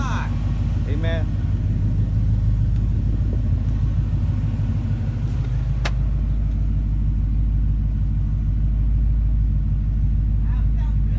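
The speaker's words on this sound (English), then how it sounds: "Sounds better than a stock Coyote." A Ford Coyote 5.0 V8 swapped into a Chevrolet Silverado idles with a steady, deep rumble, close and continuous throughout, with people talking over it.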